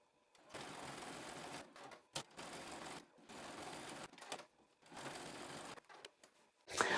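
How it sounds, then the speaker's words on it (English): Sewing machine zigzag stitching in several bursts of steady whirring, each lasting about a second, separated by brief pauses, close and fairly quiet. "I'm gonna head over to my sewing machine and I'm gonna zigzag around these three sides."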